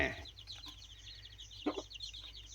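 A fighting rooster gives a few soft clucks close by, with a quick burst at the start and another short cluck midway, over a faint background of chirping birds.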